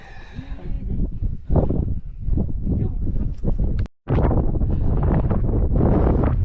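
Strong, freezing, cloudy-weather gusts buffet the microphone on the 3,190-meter summit of Mt Oku-Hotaka in Japan, in heavy, uneven rumbling waves, with one abrupt cut partway through.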